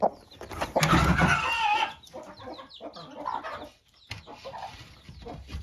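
Hens in a coop, one with newly hatched chicks, cluck and squawk close by, starting with a loud burst and settling into a steady, uneven murmur of clucks.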